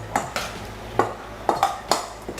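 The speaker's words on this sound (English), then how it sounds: "So I'm just going to go ahead and mix this all up." Buljol ingredients are mixed with grapeseed oil in a bowl, with a spoon clinking against the bowl in about seven sharp taps and scrapes at an uneven pace, close and fairly quiet.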